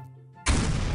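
A bomb explosion in the video game Garry's Mod with a bomb mod: a quiet tonal lead-in broken by one sudden loud blast, a broadband roar with heavy low-end boom that sustains and decays slowly.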